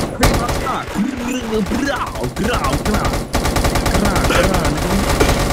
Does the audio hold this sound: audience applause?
no